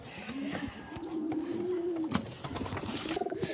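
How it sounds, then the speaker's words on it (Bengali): Pigeons coo in a rooftop pigeon house: a long, smooth, close coo is followed by shorter throaty coos, over a busy backdrop of rustling and small knocks. "ওই যে আমার কবুতরগুলো"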